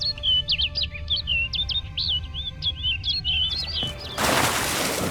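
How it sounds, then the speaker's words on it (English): A bird in The Witcher 3: Blood and Wine chirps in quick, bright repeated calls close by over a low ambient game rumble, ending as a burst of broadband noise takes over. "Looks like the bird's leading me somewhere."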